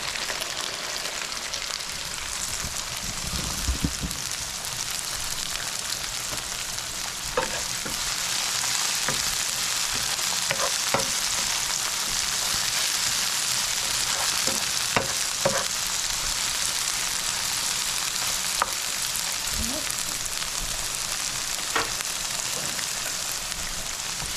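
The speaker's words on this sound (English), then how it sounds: "I just like to saute it." Salmon and Brussels sprouts sautéing in a pan make a loud, unbroken sizzle for the whole stretch, dotted with occasional light clicks and pops from stirring, with nobody talking.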